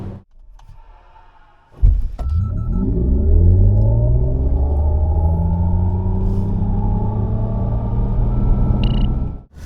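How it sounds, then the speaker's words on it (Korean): A Mercedes EQE 350 SUV electric car launches hard from a standstill, a sudden thump followed by rising, sweeping electric motor whine and road rumble that climbs steadily for several seconds. "EQ SUV 오늘 만나는 350 과연 발진 가속 성능 얼마나 나은지 볼까요?"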